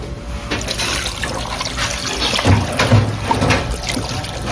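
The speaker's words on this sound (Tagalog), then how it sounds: "tapos lagyan natin ng tubig" Water runs and splashes steadily into a pressure cooker holding beef for bulalo, a continuous liquid pour with a few gurgling bumps, close by and with no one talking.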